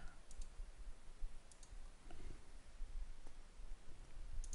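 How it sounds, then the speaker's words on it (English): Faint, sharp clicks of a computer mouse come in a few small clusters over quiet background hiss, during AutoCAD drawing work. "Right mouse click,"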